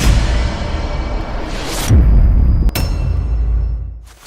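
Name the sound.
water pouring from the seven spouts during a ritual bath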